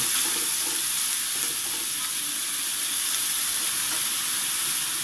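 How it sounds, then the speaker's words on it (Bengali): Grated beetroot fries with onion and spices in a hot pan, giving a loud, steady sizzle and hiss that holds throughout. "পেঁয়াজ আর মশলার সাথে আমি সুন্দর করে এটা মিশিয়ে ভেজে নেব।"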